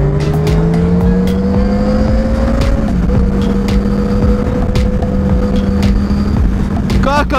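Honda CBR Fireblade 1000RR litre sport motorcycle ridden on a road, a loud close engine tone rising steadily, dropping at a shift, then holding, with wind noise throughout.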